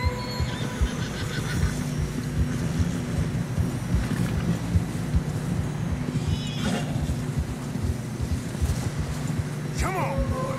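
Horses neigh and hooves plod through fresh snow in a video game, a whinny rising near the end over steady wind and low rumble while someone talks throughout.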